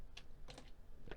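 Computer keyboard keys tapped during accounting software data entry for a computerized accounting exam practice, heard as a few close, sharp clicks in short irregular bursts over a quiet room background, with no talking.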